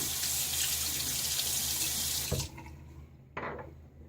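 A tap runs steadily into a sink while a face is rinsed after a wet shave, a loud close rush of water that cuts off, followed by a short splash and faint drips.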